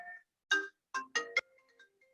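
Telephone ringtone interrupting a lecture, a few short electronic chirps in bursts in a quiet room.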